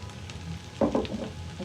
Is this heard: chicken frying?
yes